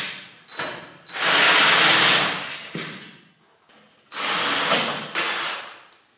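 Power drill spinning out the frame bolts on a Tiger 2000W 60V electric pit bike: two loud, close bursts of motor whir, each about a second long, with quieter clicks and handling noise in between.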